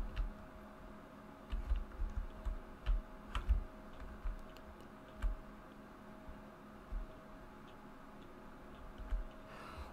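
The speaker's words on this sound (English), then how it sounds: "the footsteps is a clock ticking instead of shoes" In a cave-exploring video game, a ticking clock sound serves as footsteps, a faint irregular run of soft ticks and taps over a steady low hiss of background ambience.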